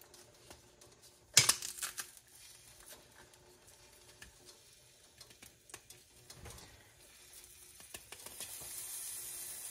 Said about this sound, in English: I'm going to put some crushed garlic into it